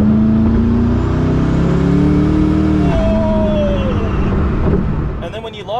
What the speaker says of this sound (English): And the blow off valve noises.